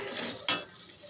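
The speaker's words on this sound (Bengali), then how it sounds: "এই যে দেখো আমি সুন্দর করে কষিয়ে নিচ্ছি আমি চাল দিয়ে" Rice being sautéed and stirred in a pan with spices for a Bengali muri ghonto, a soft sizzle with one sharp scrape of the spoon midway, close and alone.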